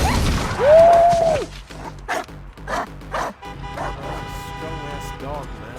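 A dog in a John Wick Chapter 4 action scene barks and yips in several sharp bursts, mixed with crashes and other film sound while people talk over it.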